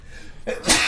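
A single loud, close sneeze, building from a short breathy intake into a sharp explosive burst, heard on its own.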